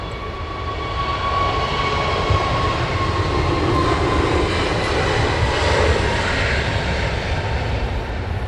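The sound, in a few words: aircraft rolling for takeoff at Heathrow Airport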